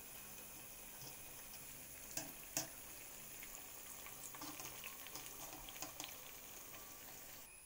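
Lentil vada fritters fry in hot oil, with a faint, continuous low sizzle broken by scattered small pops and crackles from start to finish, no voices.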